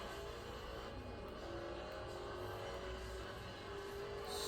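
A car engine accelerates in the Need for Speed racing game, a faint continuous roar with rising whine and slight pitch shifts, played quietly without talk.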